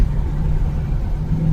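Ford Mustang with a 5.0-litre V8 driving on the road, its deep engine rumble steady and close throughout without any voices.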